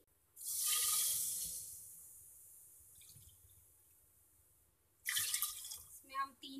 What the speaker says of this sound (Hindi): इसमें हम 3 कप पानी डाल रहे हैं।